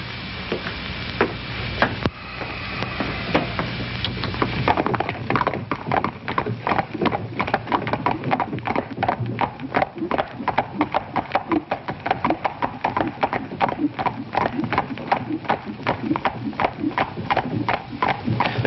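Horse hooves clip-clop in a fast, steady rhythm on a hard surface, loud and close, after a few seconds of quieter murmuring background.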